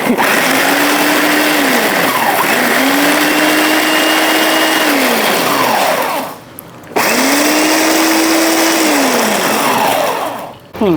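An electric blender whirs as it blends chili and garlic. The steady, loud motor drone rises and falls in pitch as the load shifts, and it cuts out briefly twice before spinning back up, with no one speaking.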